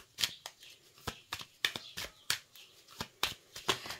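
Oracle and tarot cards being shuffled by hand, a quick irregular series of crisp riffling snaps and slaps, close and distinct, with no talking.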